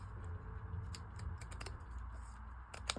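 Scissors snip off a folded piece of paper for a paper lantern house craft, a few sharp close clicks and cuts over a steady low background hum.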